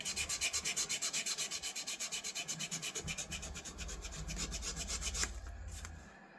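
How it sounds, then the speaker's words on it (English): Bolsters on a vintage camp knife are scrubbed clean with fast, rhythmic rasping strokes, close and fairly quiet, evenly paced for several seconds before slowing into a few looser scrapes at the end. "now I just want to clean up the bolsters a little bit"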